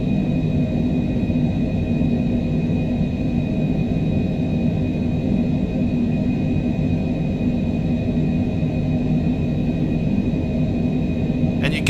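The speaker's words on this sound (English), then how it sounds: "And you can see that our plane starts to accelerate." Cessna Citation Longitude business jet in Microsoft Flight Simulator 2024 speeding up, a steady, loud, broadband engine rumble with a faint high whine, continuous and unbroken with no voices.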